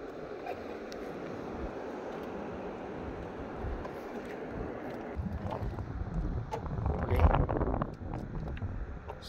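Wind gusts across open sea during a fishing trip, a steady broadband rush with water and boat noise that builds toward the end, with a louder surge of buffeting near the close.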